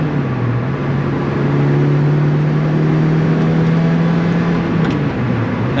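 A 2005 Lotus Elise with about 9,670 miles idles while warming up, giving a loud, steady engine hum with a faint tonal whine that holds evenly for several seconds, close by and without talk.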